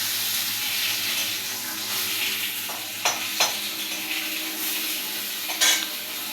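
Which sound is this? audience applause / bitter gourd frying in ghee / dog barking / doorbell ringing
bitter gourd frying in ghee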